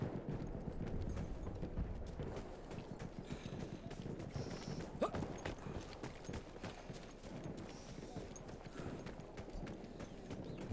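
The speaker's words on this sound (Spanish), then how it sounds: "¿Un caballo?" Steady clip-clop of horse hooves in the World War I shooter Battlefield 1, rhythmic and fairly close, running continuously over a dense rumbling battlefield background.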